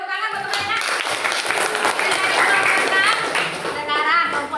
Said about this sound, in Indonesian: silakan tepuk tangan buat teman-teman